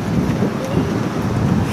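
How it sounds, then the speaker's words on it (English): Strong outdoor wind buffeting a microphone on a windy film set, a continuous low rumbling roar that fills the whole moment with no clear voices. "And you'll have to be extra loud because it's windy, okay?"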